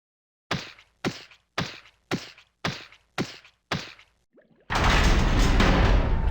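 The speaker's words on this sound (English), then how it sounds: "the thud of scummy clay after draining a ravine." In The Neverhood, scummy clay lands in seven heavy, dull thuds one after another at an even pace, each clear and close, after a ravine is drained, before a loud rushing noise takes over.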